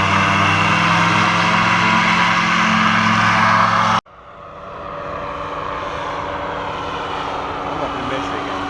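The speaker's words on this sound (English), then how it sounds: "So these are powered parachutes as opposed to powered paragliders." A powered parachute flies past with its small engine and propeller droning steadily, first loud and close, then after an abrupt break continuing as a fainter, more distant hum with voices in the background.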